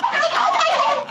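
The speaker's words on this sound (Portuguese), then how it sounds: "O peru do demônio!" A turkey gobbles loudly and close up, one rapid rippling burst of warbling notes filling just over a second.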